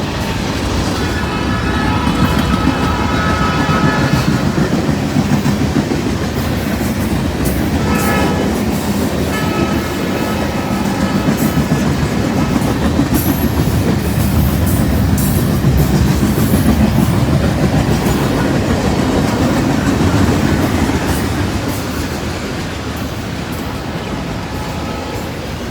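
A Norfolk Southern freight train led by an older SD40-2 diesel locomotive passes close by, working hard with a loud steady engine roar and rolling wheel noise, a brief horn-like tone early on, easing slightly near the end.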